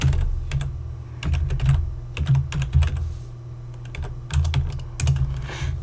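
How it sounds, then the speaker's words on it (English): Fast typing on a computer keyboard, close and clear, comes in quick bursts of key clicks separated by short pauses, over a low steady background hum. "Let me type it out for you."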